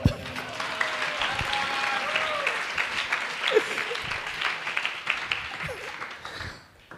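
Audience applause fills a lecture hall in a dense, steady wash of clapping that holds for about six seconds, then tapers off and fades near the end.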